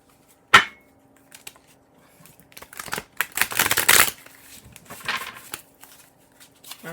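Oracle card deck being handled: a sharp snap, then scattered rustles building to a dense riffling shuffle in the middle and a few softer card slides afterward, close and with no talk.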